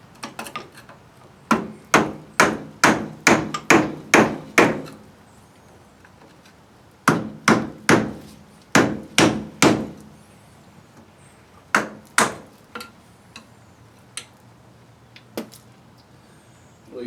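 Hammer blows on a rusted part of a 1985 Chevy K10 truck: quick series of sharp metallic strikes in bursts, about seven, then six, then scattered lighter taps, close and loud with no talk.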